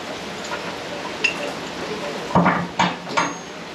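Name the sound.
B&W gooseneck ball hitch pin flipped and rotated into place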